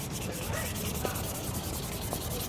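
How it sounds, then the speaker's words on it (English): Sandpaper rubs by hand in one direction across an Acura RSX front lip, a steady, close scratchy scrubbing that runs continuously with faint rhythmic strokes. "just get a piece of sandpaper. I like to go in one direction."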